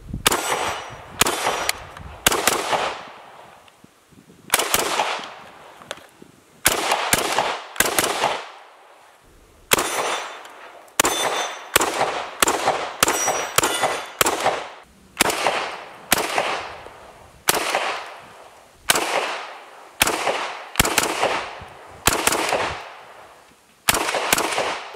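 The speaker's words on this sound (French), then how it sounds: "T'as les douilles qui s'éjectent là." An FN P90 fires in repeated bursts, each a loud, sharp volley, with short pauses between them. Spent casings eject and clang with metallic pings over about 25 seconds. No talking is heard.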